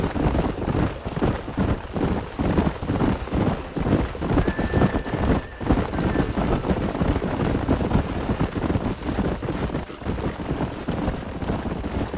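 Loud, steady clip-clop of several trotting horses in the video game Red Dead Redemption, hooves pounding in a constant rhythm, with a brief whinny partway through.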